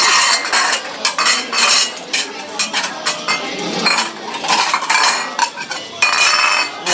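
Plates and metal cutlery are handled and stacked at a busy underground food stall, giving repeated close, sharp clinks and clattering bursts in an irregular rhythm.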